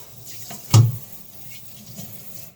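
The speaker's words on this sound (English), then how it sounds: "So I'm going to rinse my plate out here." A plate rinsed under a running kitchen tap, with a brief splashing gush of water near the start that falls back to a low trickle.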